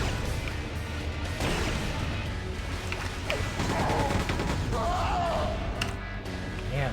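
Gunfire and combat effects from the PC game Quake II play as a dense, continuous barrage of shots and impacts, with a person speaking over the game sounds.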